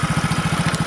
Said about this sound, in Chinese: 明显改装排气管发出扰人噪音